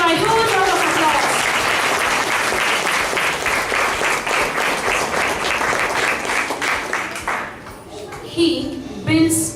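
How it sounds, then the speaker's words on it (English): Audience at a Bangalore school show applauding students as they come on stage: dense, loud clapping with cheering and children's voices mixed in, thinning out near the end as a few voices carry over. "Please give a huge round of applause."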